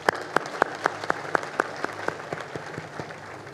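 Audience applause at a Catholic church plenary assembly, a steady run of fairly regular claps that are close and moderately loud before tapering off slightly.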